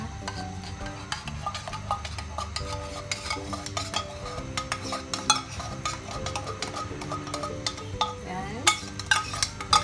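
A spoon stirs thick pork mechado stew with tomato puree in a metal pot, making steady scraping and clinking strokes against the sides, close and clear, while a voice briefly speaks.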